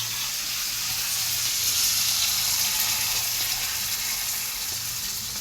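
Spices, vegetables and rice frying in a pot for vegetable khichuri, giving a steady close hiss of sizzling oil with faint stirring underneath.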